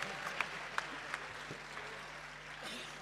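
Audience applause at a Uruguayan murga carnival stage show, a steady wash of clapping held at moderate level throughout, with a few sharper claps standing out early.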